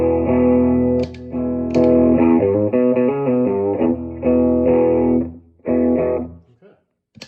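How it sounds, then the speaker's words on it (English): Electric guitar played through a PCE Aluminum Falcon Klon Klone overdrive pedal, loud driven chords and sustained notes in bursts with brief gaps, close and alone, fading out at the end. "now here is the Klone."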